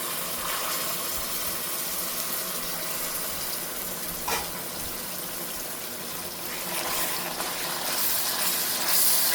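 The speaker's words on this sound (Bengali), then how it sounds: "একটু গরম পানি করে রাখছি, সে পানিটা দিলাম।" Hot water poured into a pan of fish curry with chilies, making a steady gushing, sizzling wash of sound that runs for several seconds, moderately loud and alone, with no voices.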